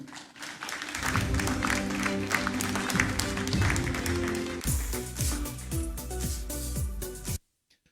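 Guests at a Ghanaian awards ceremony applaud an honoree, a broad wash of clapping over loud playing music that carries for several seconds and then cuts off abruptly.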